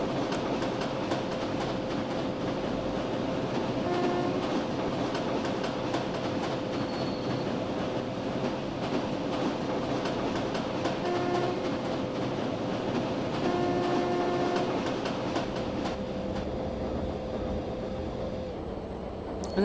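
The Karnataka Express, Bangalore to New Delhi, runs at speed as heard from the locomotive cab, a loud continuous rumble and roar of rails and engine with a steady tonal hum and faint intermittent wheel clicks throughout.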